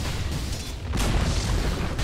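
Dota 2 tower collapsing as it is destroyed, a dense, booming rumble of crumbling debris that swells after the first second and holds steady and loud to the end.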